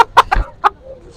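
A chicken at an agricultural exhibition in Phaltan clucks in a few short, sharp close calls, three quick ones then a fourth after a pause, over quiet background.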